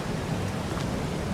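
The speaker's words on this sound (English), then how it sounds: "Let me get out of the rain." Steady rain hisses across a farm field in Farming Simulator 22 during silage baling on a Missouri farm map, a constant broadband wash with no distinct drops or voices.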